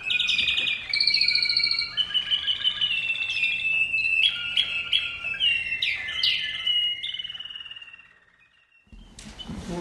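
A caged American Singer canary sings a long, varied song of rapid trills, tweets and rolling phrases, close and loud, without pause for most of the time before a short quiet gap and a burst of noise at the end.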